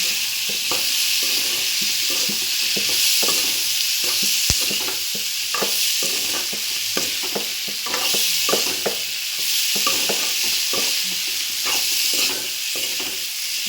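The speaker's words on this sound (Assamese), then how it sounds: "ভালদৰে ভাজি লৈ আলুখিনি দি দিম এতিয়া আলু দি দিছোঁ" Potatoes sizzle loudly in a pan with ginger as they are stirred, with continuous frying hiss broken by repeated scraping and stirring strokes, close and alone.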